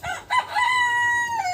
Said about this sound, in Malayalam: കോഴി പതുക്കെ വന്ന് കൊത്തുന്നുണ്ട്.